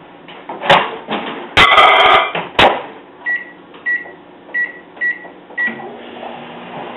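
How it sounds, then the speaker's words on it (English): A microwave oven melts a little butter, starting with loud clunks as the door shuts, then a series of sharp, evenly spaced beeps from the keypad over a low running hum, with no one speaking. "So I'm going to put that in the microwave just for a little while"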